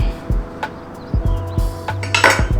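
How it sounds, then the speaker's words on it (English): A kitchen knife is run around an avocado on a board, giving a handful of close, sharp clicks and light metallic taps spaced unevenly over a few seconds. "Just gonna run my knife around it"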